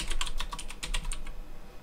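Fast typing on a computer keyboard: a quick run of about a dozen sharp, close key clicks in the first second and a quarter, then quiet, with no talking.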